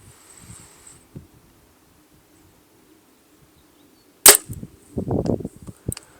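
An arrow shot from a bow at long range, a single sharp, close release crack followed by faint rustling and handling noises in otherwise quiet surroundings.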